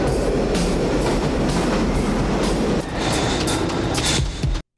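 A train in a TMNT movie runs along rails with a steady, loud rumbling roar and rattling, clacking wheels, briefly shifting in tone midway before cutting off abruptly, with no talking.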